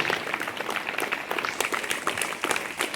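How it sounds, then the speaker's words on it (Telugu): Applause from a crowd at a village high school welcoming a teacher: dense, continuous clapping with sharp individual claps standing out, fairly close and sustained throughout. "పరంజోజీ సార్ గారికి ఒకసారి గట్టిగా చప్పట్లతో స్వాగతిద్దాం"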